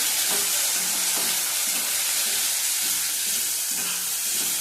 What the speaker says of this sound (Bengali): চারটে রসুন দিলাম আলু ভাজার মধ্যে